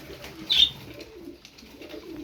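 Several pigeons held together in a box coo softly and rustle close by, with one brief louder burst of movement early on before the low murmuring settles back.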